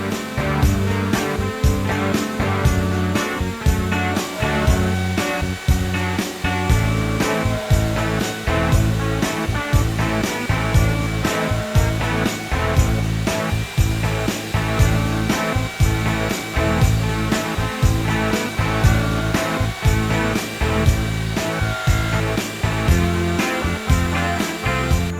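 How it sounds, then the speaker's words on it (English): A horizontal mortiser cuts mortises in wood with a loud, continuous machine roar and closely spaced rhythmic cutting pulses that run throughout, with no voices. "I'm going to use my horizontal mortiser."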